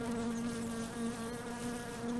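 A steady, droning buzz of bees in a video game runs continuously with a constant pitch and even loudness, no voices heard.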